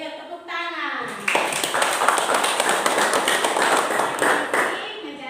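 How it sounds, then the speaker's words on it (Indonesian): Classroom children clap together in a dense burst lasting a few seconds, starting after a short spoken bit and fading near the end, with voices around it. "Ayo tepuk tangan."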